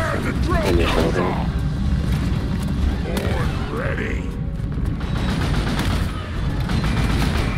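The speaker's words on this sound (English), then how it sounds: "Staple gun does a pretty good job though." Rapid bursts of staple gun fire in the game Axes Provided, dense and loud, mixed with game noise and voices talking over it.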